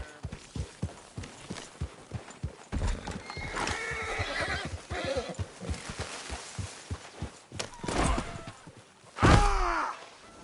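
A horse in Red Dead Redemption 2 walks with a steady clip-clop of hooves, snorts, and lets out a loud, close whinny near the end.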